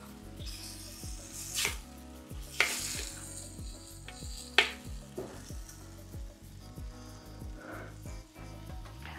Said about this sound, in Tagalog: Haluin lang natin ng maigi.